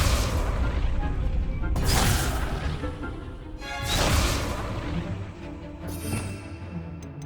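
The Confringo fire spell from Hogwarts Legacy goes off in a couple of loud booming bursts with whooshing crackle, over a continuous game score.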